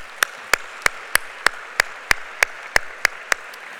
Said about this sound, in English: can we give another round of applause for all of our honorees?